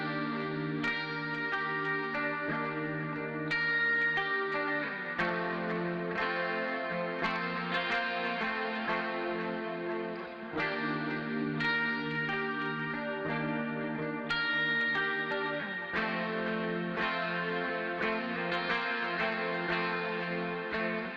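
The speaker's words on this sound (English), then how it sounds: "There's like a little bit of breakup on it." Electric guitar with a slightly gritty, lightly overdriven tone plays sustained chords and melodic lines, with a touch of reverb.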